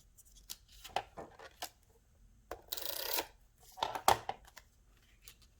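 Scissors snip through paper while trimming overhanging edges on handmade Christmas cards, a series of irregular, close clicks and slices, with one longer rustling cut in the middle.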